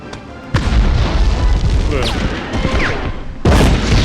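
Two heavy grenade explosions in the video game Medal of Honor boom close and loud, a few seconds apart, with a rumbling, crackling aftermath between them.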